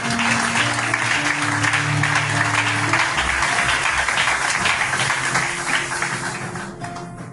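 Sustained audience applause at a memorial tribute gathering in Liège, dense and loud throughout with scattered cheers, thinning and fading toward the end.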